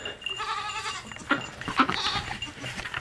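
A trapped baby goat bleats a few times, short, high, wavering cries at moderate distance amid faint background rustling.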